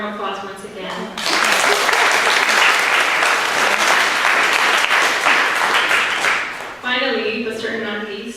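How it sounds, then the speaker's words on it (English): Warm, sustained applause from an audience at a divestment campaign event, loud and dense for several seconds, with a speaker's voice before and after it. "So let's give her a warm applause once again."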